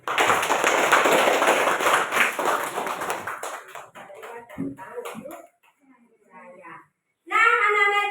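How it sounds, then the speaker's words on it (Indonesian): Children in a classroom clap for a classmate named Jaya, a dense burst of applause that thins out into scattered claps and a voice, then a short sharp noise at the end. "Tepuk tangan untuk Jaya."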